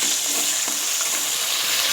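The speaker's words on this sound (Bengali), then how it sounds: "এবার দিয়ে দেবো আদা কাঁচা লঙ্কা বাটা।" Ginger and green chili paste frying with tomato in a pan for a vegetarian doi potol curry, giving a steady close sizzle with soft stirring scrapes throughout and no talking.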